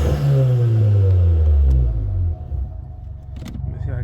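A 2015 VW GTI Mk7 with a CTS turbo inlet pipe, intake and downpipe idles at a standstill, its deep low rumble loud and steady before easing slightly, with faint clatter near the end.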